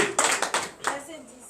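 A handful of clapping bursts from a church congregation at a morning prayer service in Benin, fairly close, fading out as a voice carries on beneath.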